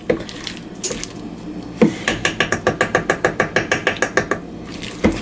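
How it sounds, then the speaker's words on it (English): A utensil scrapes the bottom of a pan while chicken-stuffed pastries cook, in a quick, steady run of about a dozen rhythmic strokes close to the listener, with a few looser scrapes before and after. "let me do a little bit of scraping here"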